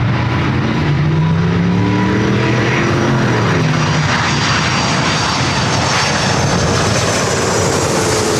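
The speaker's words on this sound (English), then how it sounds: "We're going to head over to this Moxie Hawaiian A330." A Hawaiian Airlines Airbus A330 on a repositioning flight from Seattle arriving at LAX, its engines roaring loud and steady throughout with a shifting whine as it passes close by.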